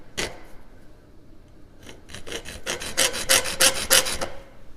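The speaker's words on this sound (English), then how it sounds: "Draw the file across the top there and get my hacksaw on the right angle" A metal file is drawn across a bottle opener blank in a series of rough rasping strokes, starting sparse and then speeding into a quick back-and-forth run of loud, close scrapes.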